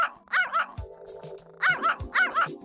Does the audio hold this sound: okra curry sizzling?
no